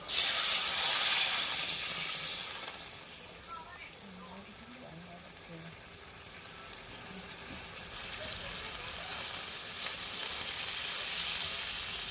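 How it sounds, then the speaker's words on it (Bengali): Water hits a hot pan of fried potatoes for a potato-and-egg curry, setting off a loud, close burst of sizzling hiss that settles into a softer bubbling, then swells again to a steady hiss. "আলুটা ভালো মতন আমার কষানো হয়ে গেছে এখন জল দিয়ে দিচ্ছি"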